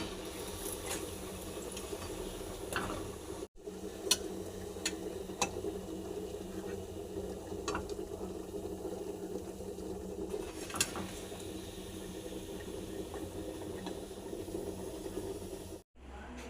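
Naan puri made with sour yogurt dough fries in hot oil, giving a steady, close sizzling hiss that runs unbroken for the whole stretch, with short gaps near the start and end.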